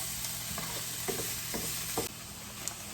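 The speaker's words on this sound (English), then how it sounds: "I'm going to continue to saute these" Vegetables sauteing in a pot on a home stove, with a steady broadband sizzle and several light stirring scrapes and clicks spread through a few seconds, fairly close, no voices.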